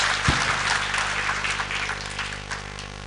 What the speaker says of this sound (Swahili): Wapi makofi ya waziri?